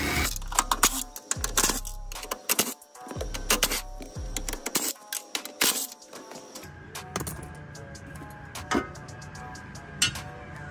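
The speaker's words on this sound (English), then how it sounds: "we're gonna finish taking off the 12 millimeter bolts that hold the battery down" A wrench or ratchet works the 12 mm hold-down bolts on a Gen 1 2001-2003 Toyota Prius hybrid battery, producing bursts of close metallic clicks and clunks, then a quieter stretch with scattered taps, no talk.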